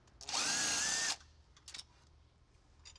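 A power drill spins out valve cover bolts on a GM crate engine, one loud high whirring burst of about a second, then quieter clicks and clatter of parts being handled.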